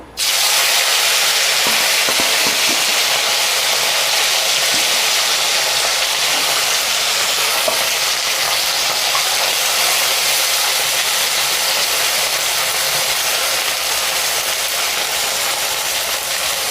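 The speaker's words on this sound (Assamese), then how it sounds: "মাছকেইটা সুন্দৰকৈ ফ্ৰাই কৰি ল'ম।" Puthi fish fry in hot oil in a wok with a loud, steady, close sizzle and crackle that runs unbroken throughout, with no talk.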